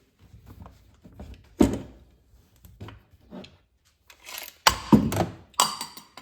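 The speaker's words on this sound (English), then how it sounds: "So I'm gonna remove the action on these, and I'm gonna get the stocks out of the way" A Vetterli rifle's action is worked free from its wooden stock in a series of irregular close-up knocks, clacks and wooden thunks, with quiet handling rustle between the sharper hits; nobody speaks.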